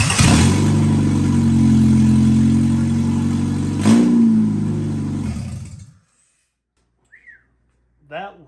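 1997 Honda Accord engine running loud with no exhaust, a harsh droning roar that swells once, holds for several seconds, then cuts off abruptly, followed by brief faint voices.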